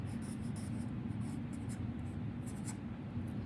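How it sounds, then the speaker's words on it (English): Sharpie marker writing a name on paper beside oil pastels, soft squeaky strokes repeating in quick short bursts, close up over a steady low background hum. "I'm also gonna write my name nice and neat on the top."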